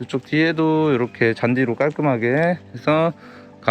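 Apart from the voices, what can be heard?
None of the usual background noises is heard.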